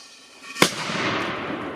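A single sharp firecracker bang, followed by a brief crackling, hissy tail; no voices.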